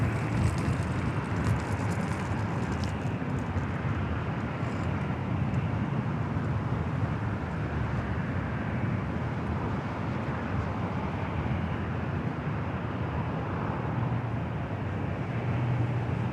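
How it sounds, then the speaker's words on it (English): A Delta Connection E-Jet airliner at Los Angeles International Airport with a continuous broadband jet roar, steady and moderately distant, no talking. "we've got that Delta Connections E-Jet up next"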